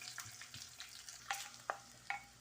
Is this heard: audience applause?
no